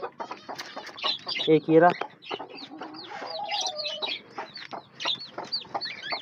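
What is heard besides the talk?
newly hatched chicks cheeping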